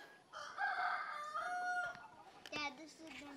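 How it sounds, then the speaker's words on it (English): A rooster crows loudly nearby, a long drawn-out call, followed by shorter clucks from chickens in a backyard flock, with faint outdoor background. "So we are going to go grab a chicken"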